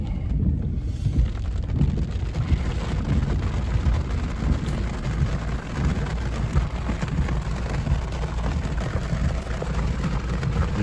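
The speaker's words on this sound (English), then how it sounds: "Normally this is the 5 o'clock rain" Steady rain falls with gusty wind buffeting the microphone, a dense, continuous wash of noise that stays loud and even throughout, with no voices.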